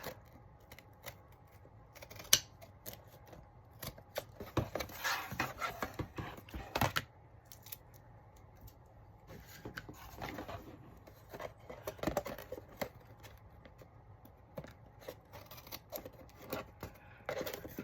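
Scissors cut paper for a scripture journal cover, with repeated faint snips and paper rustling in irregular clusters throughout, and no one talking.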